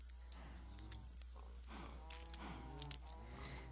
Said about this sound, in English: staring at cows.